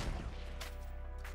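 Gunfire in Fortnite Battle Royale: a couple of short, sharp shot bursts over a steady low hum, moderately loud and spaced apart.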